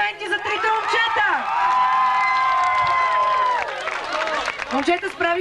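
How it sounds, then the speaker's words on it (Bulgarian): An audience of children cheers and claps for three boys on stage. Shrill voices rise into a sustained shout, then trail off into scattered yells and claps. "Искам още един път да чуя вашите аплодисменти за трите момчета!"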